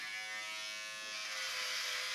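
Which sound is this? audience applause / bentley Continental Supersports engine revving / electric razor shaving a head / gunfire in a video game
electric razor shaving a head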